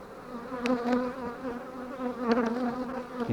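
Honeybees at an apiary left untended for two years hum in a close, continuous buzz. The pitch wavers as individual bees pass near, and a few brief louder swells rise above it.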